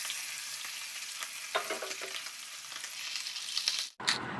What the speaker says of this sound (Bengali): এই করতে করতে ইলিশ মাছগুলো সব কটা ভাজাও হয়ে গেল